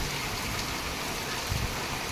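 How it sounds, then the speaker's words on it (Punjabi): Dense, steady hiss of heavy rain pouring down, constant and close, with a brief low thump partway through. "ਬਹੁਤ ਮੀਂਹ ਪੈਣ ਦਿਆ"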